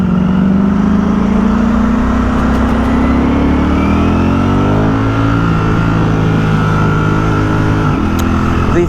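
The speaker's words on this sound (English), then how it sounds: "The throttle response in race mode is definitely better, also more aggressive, as you would expect" A 2023 Ducati Streetfighter V4S in race mode revs hard and close, its engine note climbing and then easing off, with a loud, sustained roar and wind noise and no talking.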